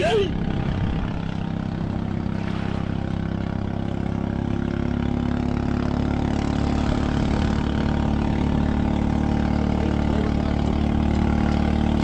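A new boat engine drones steadily and loudly without a break, deep and rumbling with a constant hum, running close by on a calm sea.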